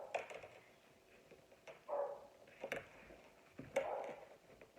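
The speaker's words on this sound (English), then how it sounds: "if you can hear my dog barking in the background" A dog barks a few times in the distance, faint and muffled, with quiet gaps between the barks.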